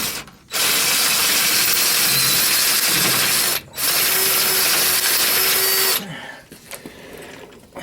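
A power drill hogs out a hole in the steel of a 1962 Chevy Biscayne during a sway bar install, whining loud and steady in two long runs with a short break between, then stopping amid faint handling noises.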